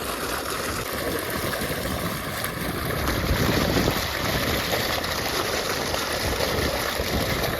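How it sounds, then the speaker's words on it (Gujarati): Water gushing from a running motor pump into an onion field, a loud, continuous rushing roar like a small waterfall that holds steady and swells slightly partway through, with no talking. "ધમધોકાર પાણી જાય છે."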